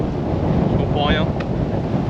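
Steady wind buffeting the microphone on an oceanside golf course, a loud continuous rumble with a faint whistle partway through.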